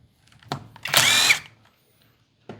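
A power drill backs a bolt out of a 50cc SYX Moto dirt bike, one short whirring burst near and loud, framed by faint clicks before and after.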